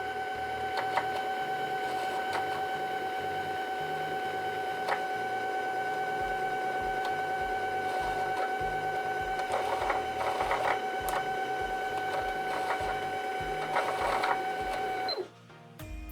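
A sewing machine winds a bobbin as its pedal is pressed, giving a steady, close mechanical whir with a rhythmic ticking pulse. It runs without a break and then stops abruptly near the end.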